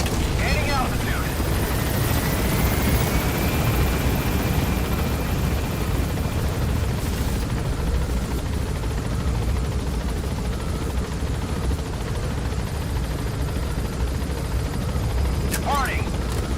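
Extraction helicopter lifting off in Metal Gear Solid 5, a loud continuous rotor roar that holds steady throughout, with brief radio-style voice fragments.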